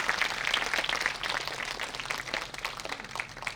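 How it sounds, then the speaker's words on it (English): Applause from an audience at a college production of George Bernard Shaw's Pygmalion, a dense steady patter of many hands clapping throughout, moderately loud and continuous with no voices on top. "Give a huge round of applause for our Clara, Roshali Bhatnagar from BA Honours Semester 2."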